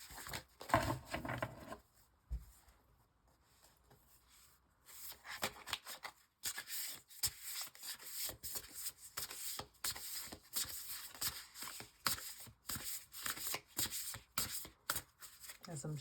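Tarot cards are shuffled in repeated crisp riffles and soft slides, with a quieter pause early on, then brisk bursts of shuffling continuing close up.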